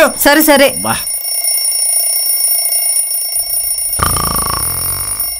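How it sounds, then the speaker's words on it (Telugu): A household alarm clock rings continuously and loudly in a steady, unbroken electronic tone, with voices talking briefly at the start and again near the end. "ఆ అలారం అంత సౌండ్ చేస్తున్నా లేవడేమిటి వాడు?"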